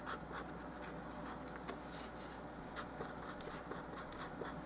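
Lightweight paper is quickly colored by hand for miniature dollhouse fall leaves, a dense, continuous scratchy rubbing of a coloring tool close up, with small rhythmic strokes and no voices.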